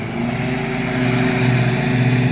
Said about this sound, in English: Get that lawnmower out of here.